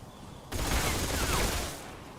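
Enemy gunfire in the Metal Gear Solid 3 remake erupts suddenly as a loud, dense burst of shots and rattling that sustains for under two seconds before easing back to background game noise.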